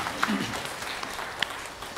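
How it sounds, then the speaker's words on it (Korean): A church congregation at a Sunday service in Daegu applauds steadily, a dense wash of many hands clapping at even loudness throughout with a few sharper claps. "감사의 박수를 하나님께 드리겠습니다"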